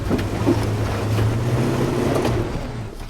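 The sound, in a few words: Jeep wheel spin off-road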